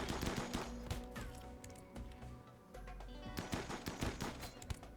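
Rapid bursts of gunfire in a Rimworld colony fight rattle in quick repeated volleys, loud and busy throughout with a brief lull in the middle, no talking.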